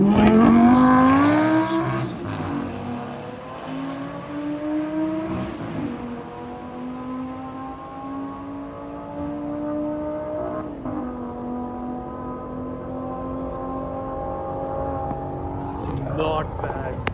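A ten-year-old car at a drag strip accelerates hard, its engine note climbing through several gear changes in long rising sweeps, loud at first and then steady in the middle distance, with people talking over it.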